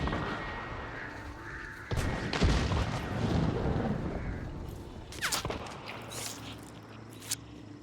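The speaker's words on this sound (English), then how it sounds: "Who do you think has been constantly shooting a silencer to my right?" Suppressed gunshots off to the right in the Western shooter Hunt: Showdown, a few sharp muffled cracks spaced apart over a quiet ambient background, with occasional movement sounds.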